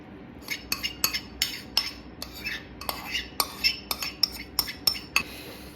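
A utensil repeatedly clinks and scrapes against a bowl while cheese and spinach savoury muffin batter is mixed, about a dozen sharp taps in a loose, uneven rhythm, close and fairly quiet.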